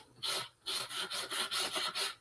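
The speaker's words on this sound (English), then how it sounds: "So I'm just sanding straight down, straight back to get it off there." Hand sanding paint off a wooden serving tray, a dry rasping scrape in repeated back-and-forth strokes, about seven in a steady rhythm, close and alone.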